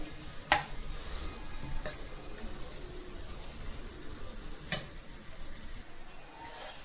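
A steady, quiet hiss of drumstick-leaf curry frying in a pan as its water cooks off, broken by a few sharp scraping clicks of a utensil stirring; no one speaks.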